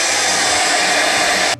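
Bosch Professional GAS 10.8-12V cordless vacuum running with a steady, loud high-pitched whirring suction that cuts off abruptly at the end.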